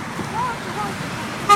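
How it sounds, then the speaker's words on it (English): A car horn gives one short toot at the very end, set against steady street and traffic noise with voices in the background. "Honk your horn, honk your horn,"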